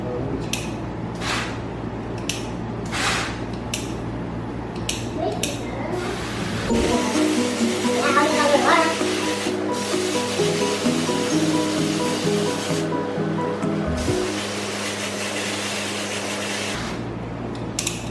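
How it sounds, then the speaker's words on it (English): Seed starting trays being watered, a steady hiss of spraying water running continuously at close range, preceded by a few short splashes and punctuated by brief pauses and shifts in the flow. "now all we're gonna do is just gonna water them"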